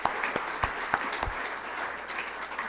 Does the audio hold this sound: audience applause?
yes